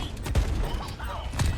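Quick bursts of gunfire from the Overwatch first-person shooter, a few sharp shots within about a second and a half, mid-level in a busy game mix.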